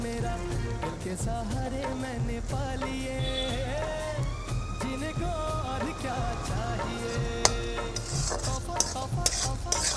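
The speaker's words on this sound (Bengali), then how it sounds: "রসুনটা দিয়ে ভালো করে নাড়াচাড়া করে নিচ্ছি" Garlic being stirred with a spatula in a pan, the scraping strokes and light sizzle partly buried under a continuous music bed, with a few clearer metallic clinks toward the end.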